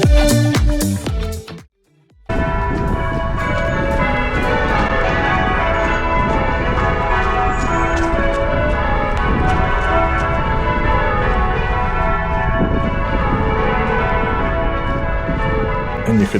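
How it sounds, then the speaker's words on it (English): Church bells ring continuously and loudly, their overlapping peals filling the air after a brief pause at the start, heard during an outdoor 10K running race. "This bit coming up with the church bells,"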